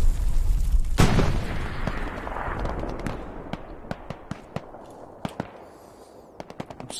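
A grenade goes off in the World War II shooter Hell Let Loose, a loud close blast with a long rumbling tail, followed by scattered sharp gunshots and bursts of rifle fire.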